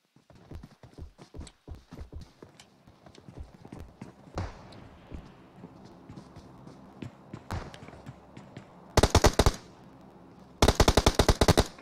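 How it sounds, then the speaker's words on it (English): Video game gunfire rattles in rapid, sharp bursts. Scattered single shots come first, then two loud, dense automatic volleys near the end. Nobody talks over it. "Who is he shooting at? He's shooting at his own teammate?"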